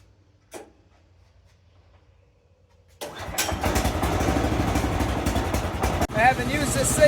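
The 14 horsepower engine on a Woodland Mills HM126 sawmill cranks briefly, then catches and runs loud and close with a steady rumbling idle, broken by a short dip before it picks back up.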